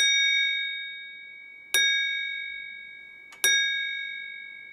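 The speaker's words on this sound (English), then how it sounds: "I have here a glass, and when I tinkle on it," A drinking glass is tapped twice, each strike ringing out with a clear, sustained bell-like tone that slowly decays, heard close and alone with a faint earlier ring fading at the start.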